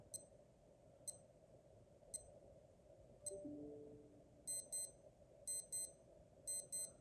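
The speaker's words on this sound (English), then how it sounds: "That's the alarm, obviously." A 1990 Casio AD-702 Oceanus diver's watch alarm beeps in short evenly spaced pips, then switches to quick paired double-beeps, thin and high over quiet background hiss.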